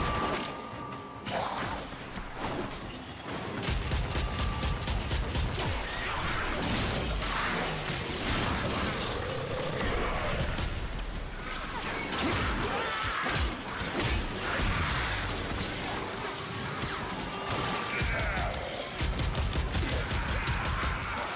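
Shotgun blasts in the game Warframe, heavy booming shots scattered through a dense, busy fight with whooshes, crashes and metallic impacts, loud and nearly continuous.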